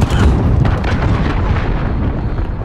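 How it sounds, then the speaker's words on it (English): An enemy cruise missile strike lands in Call of Duty Modern Warfare multiplayer, a loud, heavy rumbling explosion with crackling debris that fills the whole moment and slowly tails off. "Enemy cruise missile incoming."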